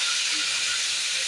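Chicken pieces fry in hot oil for a tikka karahi, giving a steady, even sizzling hiss that stays constant and close throughout.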